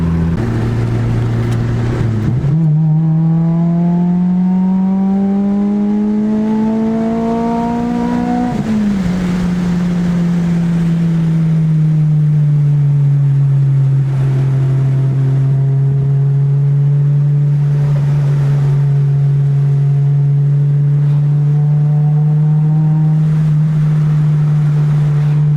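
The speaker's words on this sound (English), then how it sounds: "the engine is singing a little bit differently" A car engine running on E85 fuel rises in a smooth rev for several seconds, drops back, then holds a steady, loud droning hum to the end, with no talking.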